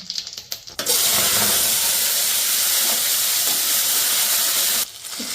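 Cumin seeds hit hot ghee in a steel wok, and after a few light clicks comes a sudden loud, steady hissing sizzle that holds for about four seconds, then drops off abruptly near the end.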